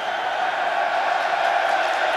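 A rugby stadium crowd at a Leinster versus Munster match roars in a broad, continuous wash of massed voices, loud and steady throughout, with no distinct single voice.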